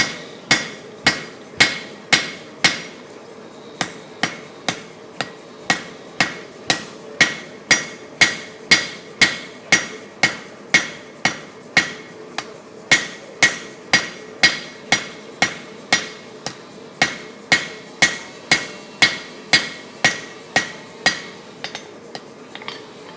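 Steady hammer blows ring out on an anvil as a steel spear head is forged and refined, dozens of sharp metallic strikes in even rhythm, close and loud, with brief pauses between runs of blows.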